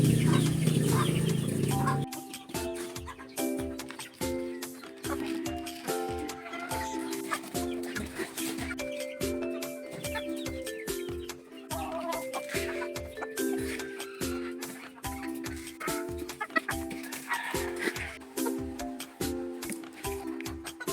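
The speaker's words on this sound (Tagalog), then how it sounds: "Hapon na at oras na para magpatuka ng mga manok." Chickens being fed in the afternoon cluck busily and continuously, many birds close by in a dense, overlapping chorus.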